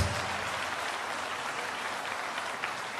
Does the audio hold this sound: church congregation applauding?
yes